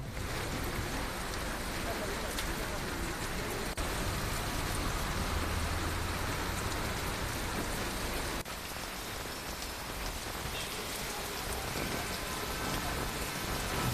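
Heavy rain during a hailstorm in Bengaluru roars as a dense, continuous downpour drumming on surfaces, loud and unbroken throughout, with a few sharper impacts.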